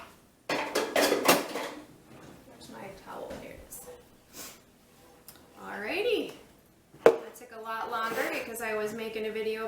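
A shaker cup being rinsed and handled at a kitchen sink, with clattering knocks of plastic and dishes and splashing water, close and fairly loud, mixed with someone talking.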